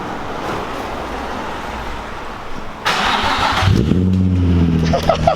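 Car fitted with an ISR exhaust, a 350, fires up for its first start: a sharp crank-and-catch at about three seconds, then a loud, close engine settling into a steady idle with rising revs, no one speaking.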